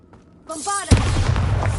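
Bombarda explosion spell in Hogwarts Legacy: a short rising magical shimmer, then a loud booming blast whose rumbling debris sustains to the end.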